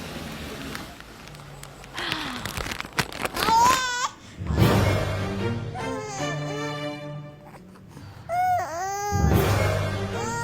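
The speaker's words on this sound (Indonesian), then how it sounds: "Kok ada suara bayi sih" An infant cries in drawn-out wails with pitch bends, broken by pauses and some quieter babbling, set against faint background noise on a street at night.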